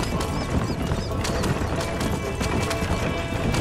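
A horse gallops in Red Dead Redemption on PS3, its hooves drumming in a quick steady rhythm, loud and close, with a neigh rising over the hoofbeats.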